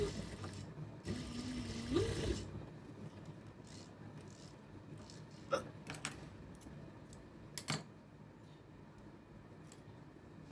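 A sewing machine stitches palazzo trousers with elastic, running in a steady close whir for a couple of seconds, then falling to quieter scattered clicks and handling sounds.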